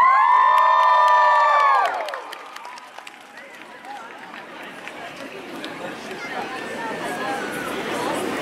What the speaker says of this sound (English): make some noise and big round of applause for the dudes and dudettes from old school